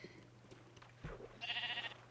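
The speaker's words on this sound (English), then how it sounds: "Oh, one of the sheep has escaped." A single faint sheep bleat in the video game sAw, sounding briefly near the end after a soft low thud over a quiet background hum.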